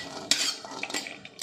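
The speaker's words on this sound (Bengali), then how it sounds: "কড়াতে এবার কয়েকটা কাজু বাদাম ভেজে নিচ্ছি, মানে শুকনো কড়াই আমি নেড়ে নিচ্ছি।" Cashew nuts are stirred in a dry wok on a gas stove, with sharp metallic scrapes and clinks of a spatula against the pan in quick irregular bursts.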